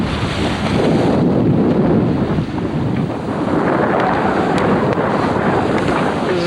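Strong wind and ocean waves roar continuously around a B-40 sailboat racing at sea in the 1997 Marion Bermuda Race, with loud buffeting wind across the microphone and rushing water, no talking.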